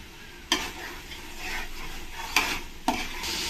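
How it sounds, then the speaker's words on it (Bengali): A tomato and spice masala for vegetable pulao being stir-fried in a pan, with a continuous close sizzle and three sharp scraping strokes of a spoon across the pan. "এবার আমি টমেটো কুচি কটা দিয়ে দেবো। দিয়ে একসঙ্গে ভালো করে কষিয়ে নেব"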